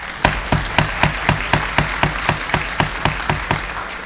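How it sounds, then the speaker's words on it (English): Applause at an annual town meeting in Dover, heard as a steady, evenly spaced run of sharp claps, about four per second, moderately loud with no talk over them. "Please hold your applause."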